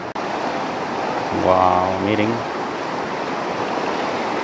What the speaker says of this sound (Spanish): Lo crecido que está el río, está demasiado, demasiado crecido.